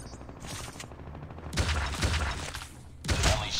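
Two loud bursts of pistol fire ring out in Call of Duty Mobile, about a second and a half apart, each with a sharp crack and a short rumbling tail.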